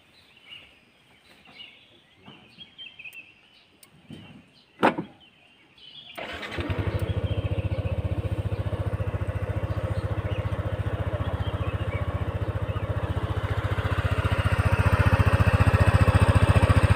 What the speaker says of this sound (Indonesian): Kita dengarkan mesinnya.